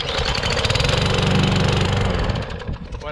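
A self-propelled lawn mower's small engine, started with a pull cord, catches and runs with a loud, rapid, rough putter close by, then eases slightly toward the end.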